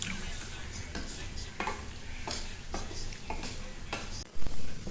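Roasted sukhadi sweet being stirred in a pan off the gas: repeated scraping strokes of a spoon against the pan in a steady rhythm, close and fairly loud, with a soft sizzle underneath.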